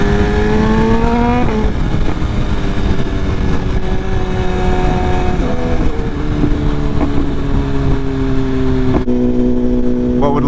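BMW S1000 motorcycle riding on the Belt Parkway highway, with a loud, close engine whine that climbs and drops through the gears and constant wind roar throughout.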